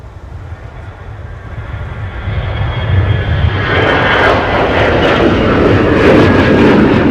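Delta Airbus A321 jet engines spooling up on a snowy winter airport runway at MSP, a rumble that swells from moderate to a loud, sustained roar with rising hiss as thrust builds, heard from a distance outdoors.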